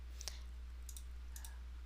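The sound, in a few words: computer mouse clicking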